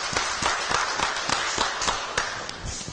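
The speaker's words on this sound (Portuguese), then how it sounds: "vamos aplaudir a jornalista, apresentadora, comentarista, Ivonita!" An audience at a talk applauds the presenter, with quick, scattered clapping from many hands blending into a continuous patter, fairly loud and close throughout.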